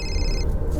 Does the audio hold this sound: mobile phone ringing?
yes